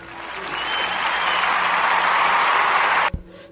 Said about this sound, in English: There might be some applause in the middle.